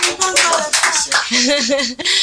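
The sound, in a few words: audience applause on a TV quiz show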